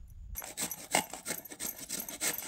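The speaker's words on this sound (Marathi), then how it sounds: "ही अशी रताळ खिसून घ्यायची।" Sweet potatoes are grated by hand on a grater with quick rhythmic rasping scrapes, about a dozen strokes in a steady back-and-forth pattern. The scraping is soft and close, with no talking.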